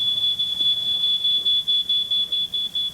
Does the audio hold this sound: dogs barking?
no